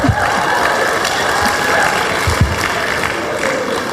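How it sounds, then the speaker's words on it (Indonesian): Church congregation applauding during a sermon, a steady dense patter of many hands sustained throughout, with a few louder low thumps scattered in. "Itu sebenarnya tepuk tangan maksudnya apa?"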